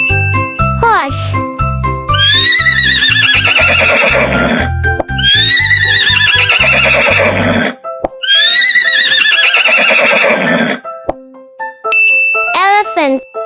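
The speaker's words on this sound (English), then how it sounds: "horse," A horse neighs loudly three times, each whinny long and shaky, set over a jingly musical backing with dings and clip-clop sounds and a short whinny at the end.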